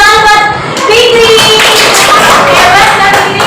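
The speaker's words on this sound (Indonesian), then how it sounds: "Hebat, tepuk tangan buat Fikri." Pupils applauding a classmate in a classroom, a close burst of scattered handclaps mingled with children's chatter and an adult voice throughout.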